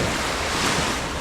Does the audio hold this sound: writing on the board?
no